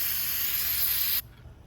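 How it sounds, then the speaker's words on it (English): Aerosol cleaner sprayed onto a foam air filter, a steady close hissing burst of about a second that cuts off abruptly. "Spray it thoroughly. Give it a good coating."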